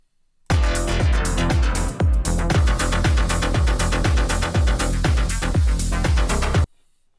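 A bright, layered synth lead plays a steady rhythmic pattern with punchy repeated notes over a deep pulsing bass, loud and continuous with no voices.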